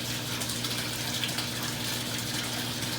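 Water running continuously to aerate an aquaponics fish tank, a steady close gushing splash with a constant low hum underneath and no pauses.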